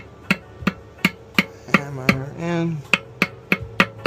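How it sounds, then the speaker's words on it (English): Sharp metallic taps from a brass hammer striking a minibike engine part repeat at a steady pace, about a dozen strikes, with a brief voiced sound in the middle; close and clear. "Use a brass hammer so that way you don't damage anything."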